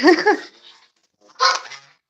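Two loud, harsh honking calls from Canada goslings ring out close by, separated by a short pause.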